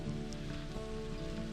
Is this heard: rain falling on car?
yes